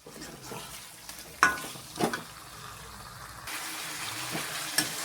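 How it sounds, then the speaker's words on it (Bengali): Chicken curry being stirred and sautéed in a pan with garam masala powder, with soft scraping and occasional louder spoon knocks over a low sizzle, close by and without talk. "এইভাবে আমি কষাতে থাকবো কিছুক্ষণ।"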